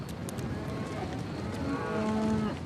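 Cattle in a Himba herd in the dry scrubland of Namibia lowing at a distance, a couple of drawn-out moos rising over a soft bed of shuffling hooves and outdoor noise.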